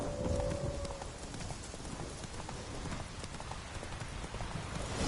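Roach the horse from The Witcher galloping, with a steady rapid clip-clop of hooves running continuously and fairly loud over a dense, noisy game soundscape.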